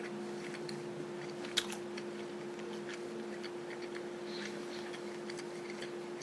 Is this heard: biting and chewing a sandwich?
yes